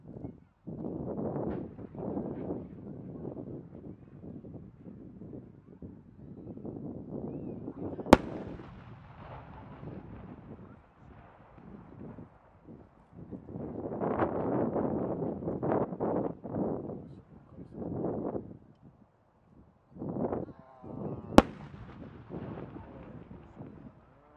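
Large 10-inch aerial firework shells with multi-layered stained-glass and kamuro effects burst over a coastal Sanriku fireworks festival, heard as two sharp distant bangs amid a long rumbling, crackling wash of outdoor noise.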